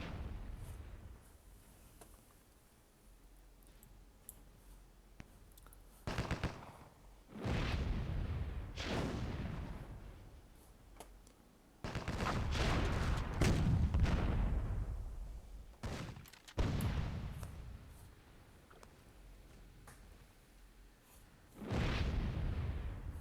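Heavy booming explosions as a tank is destroyed in the video game Myth II, several deep blasts spread unevenly, each rolling off into rumble between quieter stretches.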